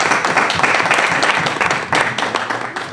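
Audience applause after a talk at a literary café event with Pablo Montoya: a burst of dense, close clapping from a small-to-medium crowd, strong at first and tapering slightly toward the end.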